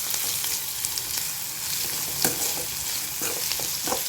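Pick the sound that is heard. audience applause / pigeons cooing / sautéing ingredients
sautéing ingredients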